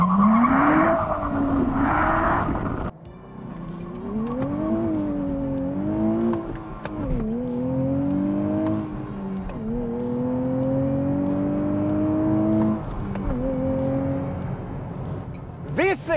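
A 2023 Nissan Z with a 400-horsepower twin-turbo V6 accelerates and shifts on a drive, its engine note rising and falling in repeated sweeping revs from inside the cabin, with steady road noise underneath.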